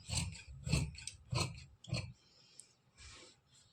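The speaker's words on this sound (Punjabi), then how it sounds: "ਹੁਣ ਆਪਾਂ ਇਧਰੋਂ ਆਸਣ ਦੀ ਕਟਿੰਗ ਕਰਾਂਗੇ" Scissors cut through salwar fabric for the seat piece: four steady rasping snips in an even rhythm, close and fairly quiet, then a softer trailing cut.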